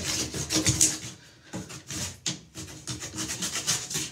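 A plastic scraper works across a bathtub surface in close, rough rubbing strokes that come in uneven bursts with brief pauses between them.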